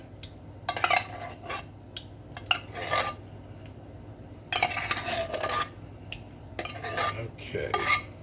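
A metal spoon scraping condensed celery soup out of a can, several bursts of close scraping and clinking against the tin separated by short quiet pauses, with no talking.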